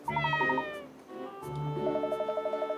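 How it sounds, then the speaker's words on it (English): A cat in the video game Layton's Mystery Journey gives two long, drawn-out meows with a wavering, stuttering tone, loud and near, with no talk. "Now we just have to ascertain if this cat really is Rex or not"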